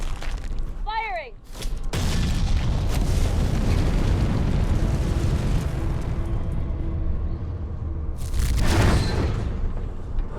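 A howitzer fires in a video game, delivering a loud sustained boom that rumbles for several seconds, followed by a second heavy blast near the end, with a brief bright whistling sweep at the start.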